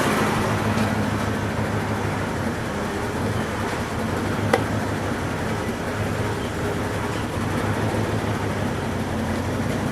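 A car engine idles steadily with tires on the ground during a test of a newly installed power steering pump, producing a continuous close mechanical hum and whir with no speech.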